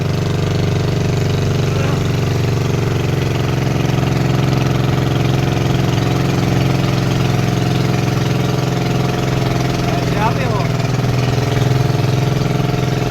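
A boat engine runs steadily on a trip through a narrow, winding creek, a loud, unbroken mid-to-low drone with a constant rumble from start to finish.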